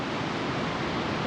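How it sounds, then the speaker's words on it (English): Wind-driven waves on the Baltic Sea off the Usedom peninsula, a steady broadband rush of surf with no distinct breaks, continuous and fairly loud with no voices. "It's quite windy today, therefore we have a lot of waves."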